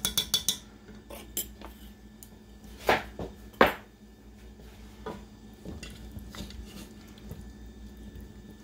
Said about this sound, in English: And we're going to stir that up.